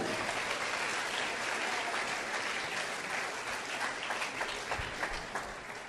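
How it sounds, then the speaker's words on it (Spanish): A church congregation applauds the Lord during a Spanish-language worship service, with steady, dense clapping that stays loud across the whole stretch and eases slightly near the end. "dele fuerte aplauso al Señor"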